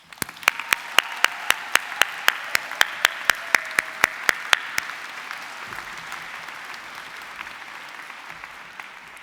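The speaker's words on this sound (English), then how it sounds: "can we all give our brave younger selves a really big round of applause?" A graduation audience at the London College of Fashion breaks into a big round of applause, a few sharp, evenly spaced close claps standing out at first before the crowd's clapping swells into a dense, steady wash.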